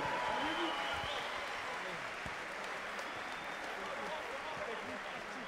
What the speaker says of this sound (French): Et je voudrais qu'on applaudisse comme il se doit Laurent Carrère, s'il vous plaît.